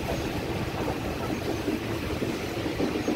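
The Cholan Express from Mayiladuthurai to Tiruchchirappalli rumbles into platform five with a loud, continuous low roar of wheels and carriages close at hand, with no clear breaks.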